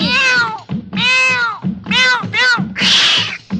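Repeated cat meows sound as effects within a Hindi film song, several drawn-out mewing calls in quick succession, loud and close, finishing with a harsher, noisier yowl.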